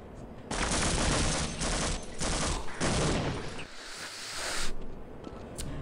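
Dense automatic gunfire in the video game Half-Life rattles almost continuously in loud bursts, with short breaks between volleys and no talking.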